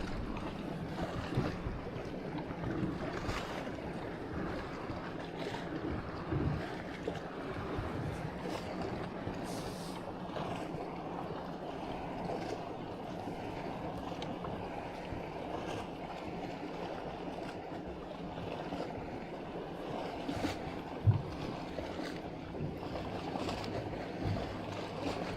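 Wind and choppy waves wash steadily around a kayak on the Patoka River, a continuous near rushing of water and air with occasional small knocks against the hull, with no voices.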